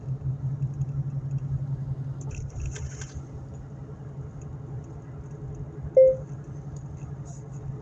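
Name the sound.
car driving, interior road rumble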